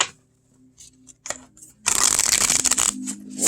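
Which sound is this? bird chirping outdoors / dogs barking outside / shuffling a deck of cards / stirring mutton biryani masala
shuffling a deck of cards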